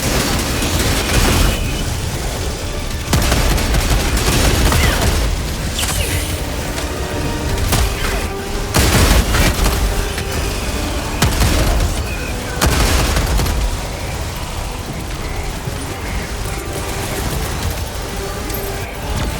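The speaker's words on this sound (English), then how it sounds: "Firing orbital laser." Orbital laser strike in Helldivers 2 rumbling through a dense combat soundscape, with repeated booming blasts and sustained loud, crackling energy bursts over nearly twenty seconds, layered with scattered gunfire and distant explosions.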